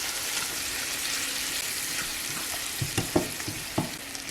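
Butter melting in a hot pan gives a steady close sizzle, joined near the end by a few sharp clicks and knocks of a utensil, no talking.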